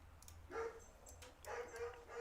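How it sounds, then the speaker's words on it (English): Dogs barking, several muffled barks and yips in two clusters, distant and faint over low background hum. "The dogs are going crazy. It's like they have a schedule to bark."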